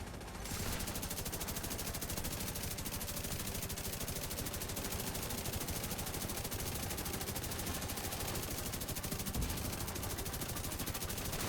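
Sustained automatic gunfire from The Division 2 video game, a dense unbroken stream of rapid shots at steady loudness for over ten seconds, with no talk.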